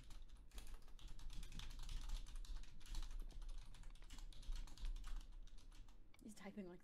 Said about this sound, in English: He's typing like the wind.